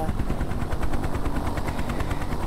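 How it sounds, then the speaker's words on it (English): Enemy ground fire in the helicopter simulator game Hind, a dense, continuous rattle of rapid machine-gun bursts with a rumbling low end, loud and sustained throughout. "Enemy ground fire."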